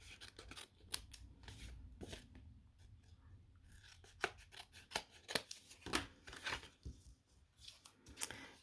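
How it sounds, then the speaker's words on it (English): Scissors snip pieces off a sheet of card while making a birdhouse, a series of close, crisp cuts with short pauses and light rustling of the card between them. "you just lift up the card and you cut along and cut these pieces off."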